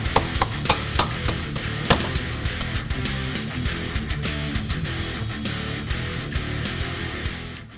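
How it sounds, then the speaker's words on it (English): Hammer blows drive a door hinge pin out of a 1982-1993 Foxbody Mustang, a fast run of sharp metallic strikes in the first two seconds, then a few scattered hits over a dense, busy background. "we can go right into just hammering this thing out of the way"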